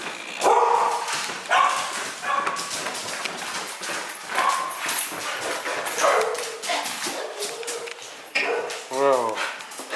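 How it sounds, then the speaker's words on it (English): A hyper, excitable dog barks and yips in bursts close by while several people talk over it in a garage setting. "Hula got a crackhead dog."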